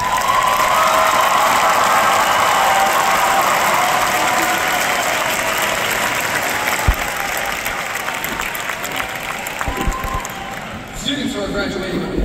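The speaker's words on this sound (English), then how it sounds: "please stand as we applaud your success" Graduation ceremony crowd applauding students: sustained, dense clapping from a large audience over many seconds, gradually thinning toward the end, with a low engine-like hum in the background.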